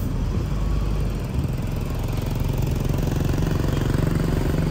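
A Surya Bali intercity bus pulls in, its diesel engine giving a loud, continuous, throbbing rumble that stays steady and close for the whole moment.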